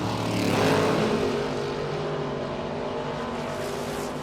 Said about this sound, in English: Both cars away on the green.